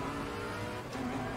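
A Bentley race car engine in Assetto Corsa Competizione drones at steady high revs with a sustained tonal buzz, briefly dipping before rising again, fairly faint and without talk.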